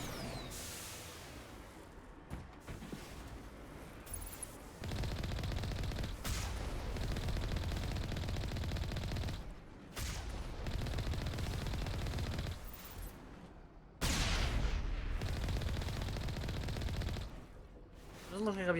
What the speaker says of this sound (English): I'm gonna blow some dudes with my tank.